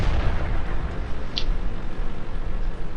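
Artillery fire from a GW Tiger P self-propelled gun in World of Tanks during a 2013 tournament match, heard as a dense, rumbling low-end boom with a brief sharp crack partway through, loud and continuous across the clip.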